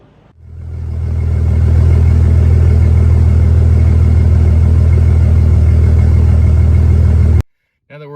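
A Jeep WJ with the 4.0 engine, just fitted with 1.7 ratio roller rockers, cranks and fires, then settles into a loud, steady close-up idle for several seconds before cutting off abruptly.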